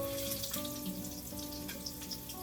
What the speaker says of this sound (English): your pan's sizzling and searing them